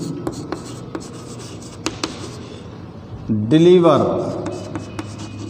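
Marker or chalk scratches and taps against a board in a science classroom, in a few short strokes spread across the clip with a teacher's voice rising briefly near the end.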